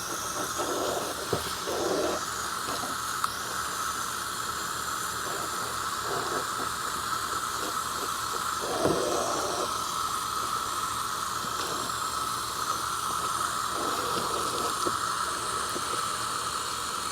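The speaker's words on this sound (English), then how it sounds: "Let's rinse these off." Water runs over freshly picked squash from a container garden as it is rinsed off, a continuous hiss with a few louder splashy surges when the squash moves under the stream.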